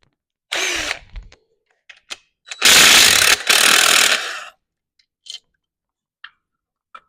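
A power tool cutting off a transmission dipstick on a 1923 T bucket hot rod, heard as a short loud burst, then two longer harsh grinding runs, followed by scattered small clicks and taps.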